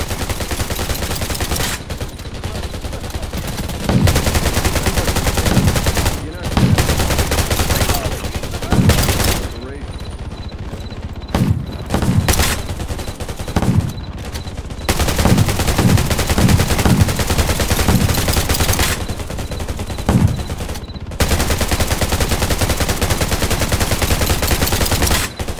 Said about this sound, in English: They're giving us really heavy fire this time.